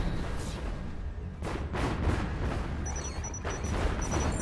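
Massed artillery units in the strategy video game Planetary Annihilation firing on an enemy commander, a dense run of booming shots and crashes overlapping loudly with no pause.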